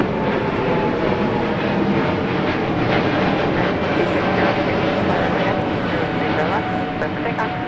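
Airliner at Minneapolis–St. Paul Airport, with steady loud broadband engine roar throughout and people talking over it.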